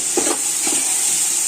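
Onions and garam masala paste frying in a pan while being stirred, for mutton pulao: a constant bright sizzle with a few soft stirring scrapes early on, close and steady.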